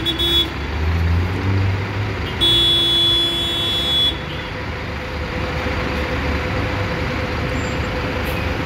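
Road traffic in Rio de Janeiro with buses and cars, a steady low rumble of engines and passing vehicles, with a brief high tone near the start, continuous and moderately loud throughout.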